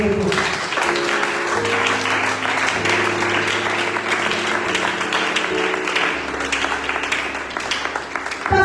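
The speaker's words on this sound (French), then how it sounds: "Si tu es d'accord avec moi, acclame cette réponse." A church congregation applauds and cheers during a sermon, a dense, sustained wash of clapping and voices with sustained keyboard tones playing underneath.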